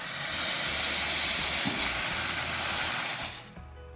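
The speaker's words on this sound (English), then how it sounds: "Let water out periodically too." Water rushes out of a farm well in a loud, steady hissing spray, close by, then cuts off abruptly near the end.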